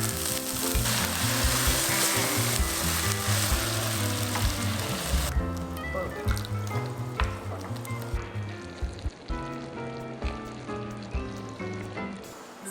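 Sizzling and frying in a pan as a splash of plain water goes in, a loud, steady hiss that dies back into a lighter crackle with scattered pops.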